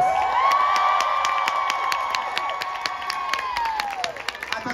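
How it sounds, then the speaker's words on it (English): A concert crowd at an outdoor bandshell cheers and claps steadily, with a sustained whoop riding over dense, continuous applause throughout. "give a special round of applause to the amazing group with Jocelyn"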